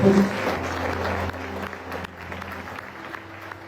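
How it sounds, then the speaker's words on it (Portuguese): Congregation applauding in a church service, a brief burst of clapping that starts strong and fades over a few seconds, with some background murmur. "Você pode dar um aplauso ao Senhor Jesus?"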